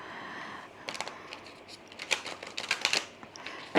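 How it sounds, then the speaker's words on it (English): Large oracle cards being shuffled by hand, giving a run of crisp riffling and snapping card sounds that grows denser and louder toward the end, close to the microphone with no talk. "These cards are so big though to shuffle."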